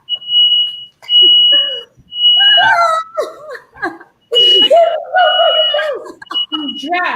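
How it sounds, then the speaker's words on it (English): A smoke alarm shrills in repeated high beeps in a home kitchen during a cooking session for quick enchiladas, sounding over loud, excited talk and laughter from several people. "Can we turn off the alarm?"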